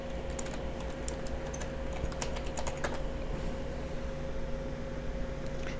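Quick clicks of typing on a computer keyboard, clustered in short irregular bursts over a steady low hum, with long pauses in between and no talking.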